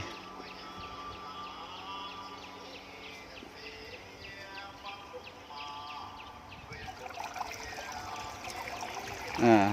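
Water poured out as part of a ritual offering, a soft trickling stream running on for several seconds alongside faint background voices and sounds, rising to a louder splash at the end.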